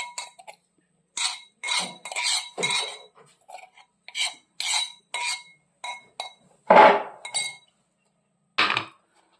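Metal utensils clink and scrape in a bowl while a stone-ground onion-garlic paste is mixed into flour for Konkani alu vadi. The knocks and rattles come in quick irregular bursts, close and fairly loud, with quiet gaps and no talking.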